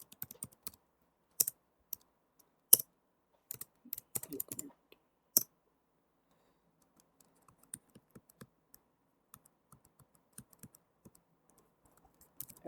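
Computer keyboard typing CSS code, with scattered bursts of crisp key clicks, louder clusters early and lighter, quicker taps later, close and otherwise quiet.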